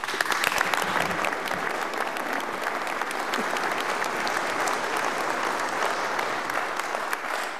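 An audience at a joint congressional hearing on veterans' affairs breaks into firm, sustained applause, many hands clapping densely and evenly, with a few sharper claps standing out early on.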